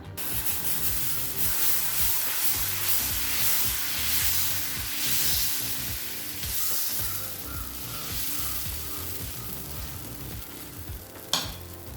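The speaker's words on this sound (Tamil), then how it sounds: "இப்போ தோசைகள் சூடாகிடுச்சு, நம்ம தோசை ஊற்றிடலாம்" Spicy garlic dosa batter spread onto a hot pan gives a continuous, fairly quiet frying sizzle with faint scraping and stirring noises, and no talking over it.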